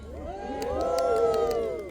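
A crowd cheers at a historical reenactment event at Fort George for the 94th Regiment of Foot, Scotch Brigade, a swelling chorus of shouts and whoops from many voices that rises and holds for under two seconds.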